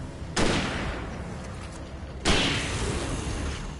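Rifle fire in the video game Alan Wake Remastered: two sharp, loud shots about two seconds apart, each with a long decaying tail of reverberant noise.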